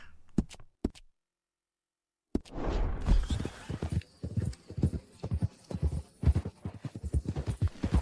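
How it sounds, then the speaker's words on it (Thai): Horse hooves clip-clop steadily while riding in Red Dead Redemption 2, a close, rhythmic trot of many quick hoof strikes that begins after a short silence and runs on alone. "เราจะขี่ม้าไป"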